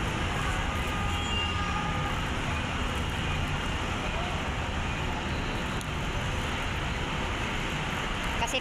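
A low, rumbling roar of a passing train runs through the whole stretch, steady and fairly distant, amid general outdoor noise.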